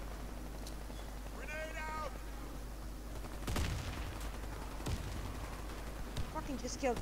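Gunfire in the Chernobyl video game: a few sharp, isolated shots spaced a second or more apart, then a quicker cluster at the end, over game ambience with a meow-like cry early on and people talking.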